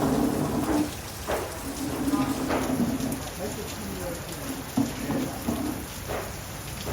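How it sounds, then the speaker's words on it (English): Heavy tropical rain pours down steadily in a dense, hissing wash on Nuku Hiva during the rainy season, with strong gusty wind and a voice speaking beneath it. "Very, very heavy rain, and strong wind gusts as well."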